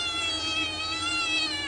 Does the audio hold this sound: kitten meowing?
yes